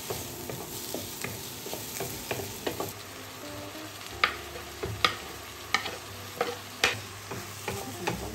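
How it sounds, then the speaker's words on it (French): Beef risotto pomodoro cooks in a pan: a spoon stirs and scrapes in a steady, repeated rhythm over a constant low sizzle. Sharp scraping clicks stand out close up, with no voices. "Je m'attelle donc à cuisiner un bon risotto de bœuf pomodoro."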